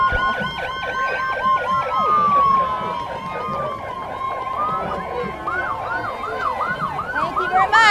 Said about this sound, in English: let the sirens come by